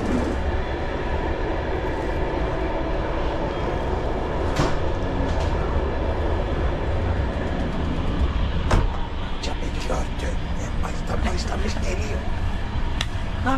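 The Van Gölü Express rumbles along the rails in a steady, continuous interior roar, with occasional clacks and knocks, while people talk over it.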